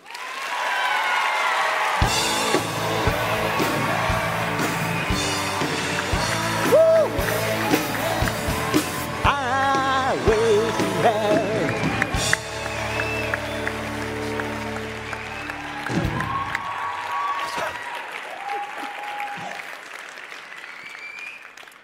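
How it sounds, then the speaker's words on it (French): Sustained audience applause, loud and close, with scattered cheers, greets the first candidate, Yann Guénon of the EDF group, lasting about twenty seconds and fading near the end. "je vous invite à accueillir avec vos applaudissements notre premier candidat"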